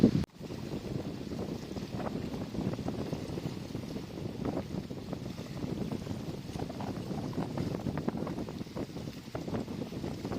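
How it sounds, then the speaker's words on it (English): Strong gusting wind on a lake in Algonquin Park during a canoe camping trip, a steady rough roar with buffeting on the microphone that keeps up throughout, with no voices. "It doesn't look like these wind gusts are going away anytime soon"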